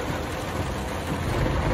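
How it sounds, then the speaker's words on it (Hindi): Heavy rain pours down in a city, a dense, steady rushing hiss with no breaks, heard from close by with no voices. "ऐसी बारिश हो रही है भाई"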